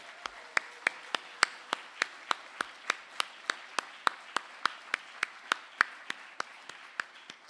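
Applause made of evenly spaced, crisp claps in a steady rhythm, several per second, sounding like only a few hands and fairly faint, for the speakers at the end of an evening Ignite Liverpool talk event.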